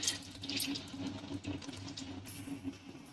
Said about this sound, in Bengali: আমরা যেহেতু এক কেজি চাল নিয়েছি তাই এখানে আট বাটি জল দিচ্ছি